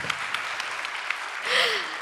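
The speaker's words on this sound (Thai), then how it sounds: "สนุกปรบมือค่ะ" A small audience at a talk about King Rama IX gives scattered, evenly spaced claps that are fairly faint, followed by a short spoken voice at the end.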